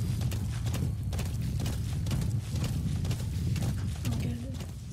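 Horse hooves clip-clop at a steady trot in the video game Metal Gear Solid V, a continuous rhythmic clatter running throughout at close range and fairly loud.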